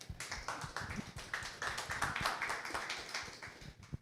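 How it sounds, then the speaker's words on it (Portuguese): Audience at a Portuguese-language talk in a mansion venue clapping for a participant named Klaus, with distinct individual hand claps rattling in an irregular rhythm, fairly close but quiet. "Uma salva de palmas para o Klaus."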